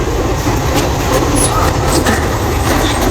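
A train runs past loudly and close by, with a constant rumbling roar and faint clattering of the wheels.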